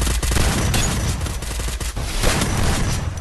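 SMG and FAMAS gunfire in a video game, rapid overlapping bursts of shots rattling continuously at close range, with no voices.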